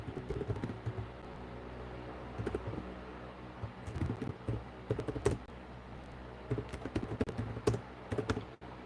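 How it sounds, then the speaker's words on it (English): Keys clack steadily on a computer keyboard during a live drawing session, with quick bursts of close, crisp taps, short pauses and a few louder strikes, with no talking. "You can hear my keyboard clacking away."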